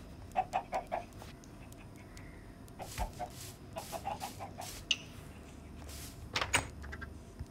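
A bunch of baby chickens clucking and cheeping close by, a busy scatter of short chirpy calls in quick bursts, with an occasional knock or sliding sound and no talking.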